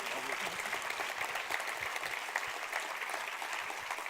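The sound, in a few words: applause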